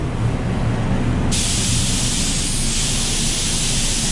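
A paint spray gun gives a steady, loud hiss of spraying that starts abruptly and continues evenly, brighter and sharper after the first second.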